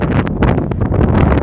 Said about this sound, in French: Je suis désolé pour le vent, c'est pas ma faute.